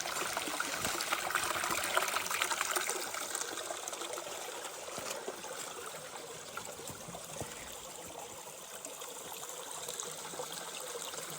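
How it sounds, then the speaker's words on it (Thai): Creek water in a forest stream trickles and burbles steadily at close range, a soft, even wash of flowing water with no voices. "ก็จะเป็นลำธารลำห้วยนะครับเพื่อนๆ"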